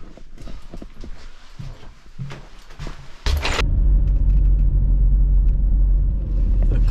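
A car in rural Wales pulls away: a sudden thud, then the engine settles into a loud, steady low rumble heard from inside the cabin. It carries on unbroken to the end.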